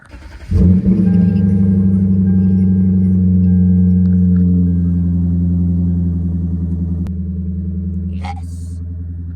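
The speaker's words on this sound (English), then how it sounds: "We about to give you guys a cold start with the new exhaust." A Lexus IS F with a new exhaust cold-starts with a sharp crank and catches into a loud, steady, deep idle close by that slowly settles lower, with a brief voice near the end.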